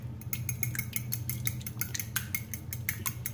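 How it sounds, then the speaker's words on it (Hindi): A fork beats eggs with fresh milk in a bowl, making rapid rhythmic metallic clinks against the dish with a soft swishing undertone. The sound is close and continuous. "अब मिक्स करेंगे फोक की मदद से"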